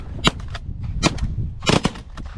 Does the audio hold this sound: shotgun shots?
yes